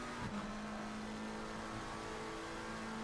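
A McLaren race car in a racing game accelerates hard out of a corner at Watkins Glen, a steady high engine drone that holds its pitch throughout, fairly quiet and alone with no voices.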